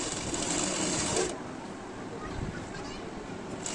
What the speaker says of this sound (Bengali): সামনের পার্ট এবং পেছন পার্ট নিয়ে আমরা ঘাড় দুটো সেলাই করে নেব